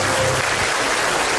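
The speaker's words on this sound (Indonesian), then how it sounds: "Iya, tepuk tangan dong." A studio audience at an Indonesian comedy talk show bursts into brief, dense applause, loud and close, a steady wash of clapping with no talk over it.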